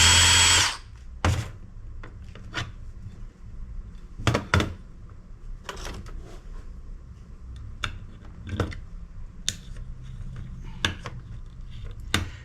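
Power driver backing screws out of a hard drive's brackets during scrapping, heard as a series of short whirring bursts spaced a few seconds apart, close by, with small clicks and clunks of metal parts in between.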